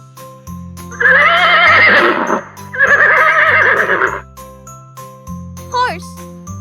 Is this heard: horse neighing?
yes